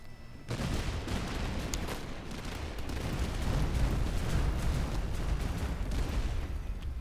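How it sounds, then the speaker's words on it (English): Dense, continuous barrage of artillery fire in the game Master of Command, a steady wall of rumbling blasts and crackling shots that swells slightly and holds loud throughout after a brief quieter start. "That artillery is just bouncing into me."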